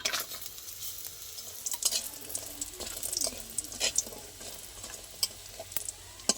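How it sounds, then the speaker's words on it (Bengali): Bori, small sun-dried lentil dumplings, frying in hot oil: a quiet sizzle broken by frequent sharp pops and crackles and some stirring clatter, with no talk. "আমি কিছু বড়ি নিয়েছি এই জন্য এবার ভেজে নেবো বড়িগুলো"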